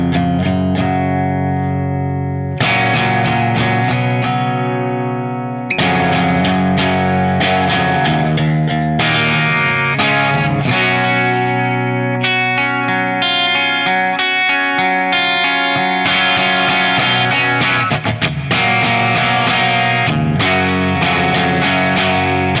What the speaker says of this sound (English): Here's the jetblack through the clean channel with just a little reverb